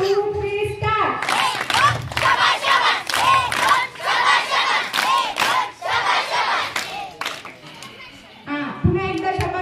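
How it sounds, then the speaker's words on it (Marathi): A crowd of women at a village haldi-kunku gathering claps and shouts together in a loud, rhythmic cheer, with steady beats and voices running for several seconds before fading. "पुन्हा एकदा शाबासकी टाळी"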